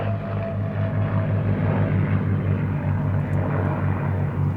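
Propeller warbird making a pass at the Duxford Battle of Britain air show, a continuous droning engine roar heard at a moderate distance, steady throughout without voices.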